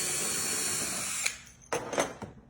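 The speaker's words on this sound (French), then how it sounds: "À l'arrière de la télévision, nous allons dévisser ces vis." A power screwdriver or drill whirs steadily while screws are taken out of the back of a television, then stops and gives way to a few short, sharp clicks and handling noises nearby.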